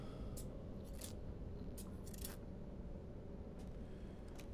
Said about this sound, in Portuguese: Usa a tesoura.